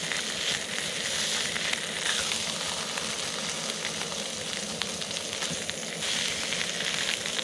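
Trout fillets sizzle steadily in butter in a pan on the ice, a close, continuous frying hiss with fine crackle that holds at an even level throughout.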